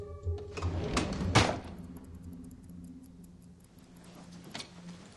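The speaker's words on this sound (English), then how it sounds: "So he opens the watch drawer up." A watch drawer being opened, with short mechanical clicks and a sharp sliding knock early on, then a softer bump near the end, close and fairly quiet with no talking.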